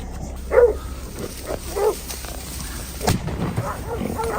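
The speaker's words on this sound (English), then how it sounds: "the hunting dog's barks erupted from deep within the forest" Hunting dogs bark in a forest during a wild boar hunt, a few separate barks ringing out at moderate distance, with rustling and muffled background noise between them.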